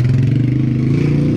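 A motorcycle engine in a market lane in Mashhad at night runs loud and close, a steady throaty rumble with a slight clattering texture and no voices.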